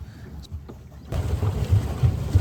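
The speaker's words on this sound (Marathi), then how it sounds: "ही बोट जशी पाण्यावरून सरकते" A boat glides over water on Kasarsai Lake near Pune, at first a quiet near-silence, then a louder rushing, wind-blown wash of water against the hull.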